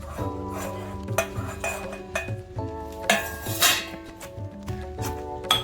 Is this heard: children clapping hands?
no